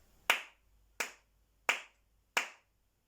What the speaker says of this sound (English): I'm going to clap you another one